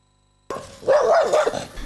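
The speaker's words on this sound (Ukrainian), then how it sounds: "Гавкіт собаки це поки єдине, що можна почути на подвір'ї дитячого садка веселка." A single dog barks close by in a kindergarten yard, one short, loud, slightly drawn-out bark after a moment of silence.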